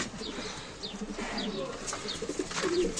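Pigeons coo softly in a loft, low repeated throaty calls with a few faint chirps and light rustling nearby, quiet and close.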